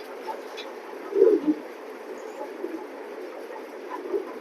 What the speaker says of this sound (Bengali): খুব একটা রেয়ার একটা কবুতর